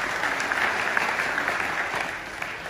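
Loud, dense audience applause fills an indoor hall at a business award ceremony, steady clapping from many hands with no voices over it.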